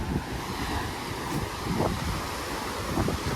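Sea waves wash onto the beach at Kanyakumari in a steady, soft rush of surf mixed with buffeting wind noise on the microphone, with no voices.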